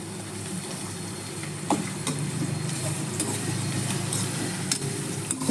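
Grated carrot sizzles in a pan of browning onions while it is stirred, a steady close frying hiss with a few scraping and knocking accents from the spoon.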